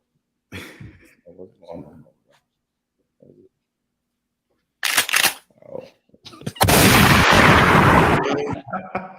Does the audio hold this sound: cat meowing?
no